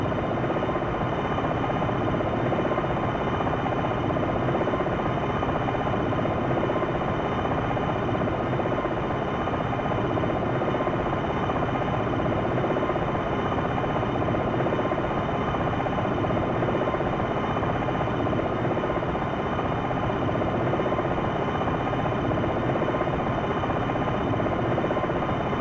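Steady, loud helicopter engine and rotor drone from the Longbow flight simulator game, a continuous dense roar that holds unchanged throughout with no talk.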